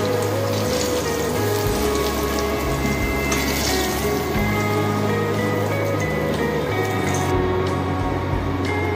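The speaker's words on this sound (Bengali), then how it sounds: "পটলটাকেও কিন্তু একইভাবে আমি ভেজে নেব।" Pointed gourd (potol) pieces fry in hot oil, giving a dense, continuous sizzle with a low hum underneath, steady and close without talking.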